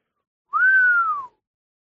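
A person gives a single clear whistle, a smooth sustained tone lasting under a second that rises slightly and then slides gently downward, heard alone in silence.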